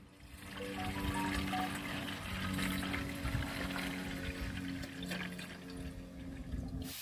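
Soap-scrap insect repellent solution poured into a garden sprayer tank, a steady splashing, gurgling stream of liquid with sustained trickling tones, close and continuous without speech.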